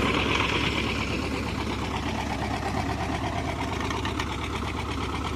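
A tractor engine idles with a steady, rough, chugging rumble nearby, unbroken throughout.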